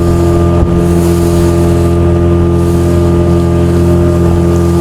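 Speedboat in Goa roaring steadily at close range, a loud continuous engine drone with strong low harmonics and rushing wind and water noise throughout.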